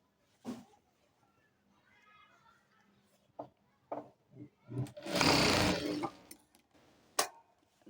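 Sewing machine stitching a petticoat seam: a short whirring run of stitching bursts loudly near the middle, with scattered clicks and handling knocks before and after.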